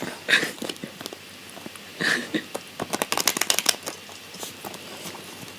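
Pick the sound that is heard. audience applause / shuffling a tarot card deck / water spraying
shuffling a tarot card deck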